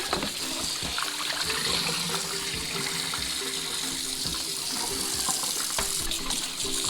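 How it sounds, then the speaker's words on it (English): Tap water runs steadily into a sink as hands are washed in a home kitchen before preparing chicken feet, a continuous close splashing flow with small irregular spatters and no talking. "Wash my hands real quick."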